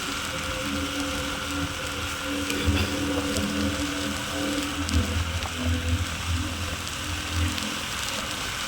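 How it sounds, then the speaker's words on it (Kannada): Steady rain pours on the road during a trip from Sagara to the Sigandur temple, a dense, even wash of falling water with a low rumble underneath, no talk. "ಮಳೆ ಹೊಡ್ತಾ ನೋಡು"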